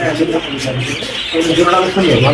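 Small pet birds chirp and tweet in a bird shop, a steady busy twitter running under ongoing talk between customers and seller.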